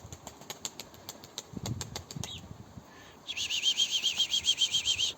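Pigeons flap their wings in several quick, sharp bursts, near and moderately loud, followed by a steady rhythmic fluttering that lasts a couple of seconds, with no one talking.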